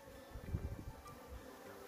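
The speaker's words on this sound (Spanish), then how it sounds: "Fijaos cómo están ya de abejas, que ni caben dentro. Hay un tráfico, pero tremendo." Honey bees swarm around a crowded double-queen hive nucleus, a close buzzing hum that swells and fades with no talking.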